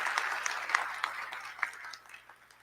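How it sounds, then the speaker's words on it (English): A convocation audience claps for the Mayor of Cincinnati, a short burst of scattered hand claps that is moderately distant and tapers off toward the end. "Let's give another round of applause to the Mayor of Cincinnati"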